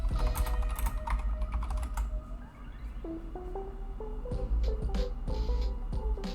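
Rapid clicking of keys on a computer keyboard, steady and close, running the whole time over a low hum with a few electronic tones mixed in.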